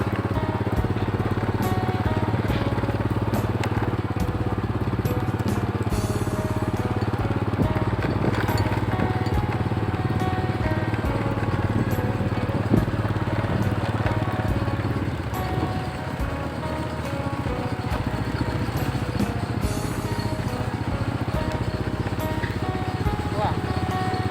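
A walk-behind tractor engine chugs continuously at close range with a steady, rough mechanical drone. Voices are audible over it throughout.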